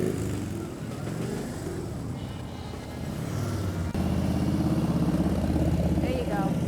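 A motorcycle engine revs and runs steadily during slow riding practice, a continuous close, loud drone that grows fuller and louder partway through, with a rider coach talking over it.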